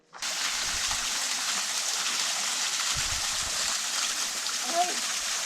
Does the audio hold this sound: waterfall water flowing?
yes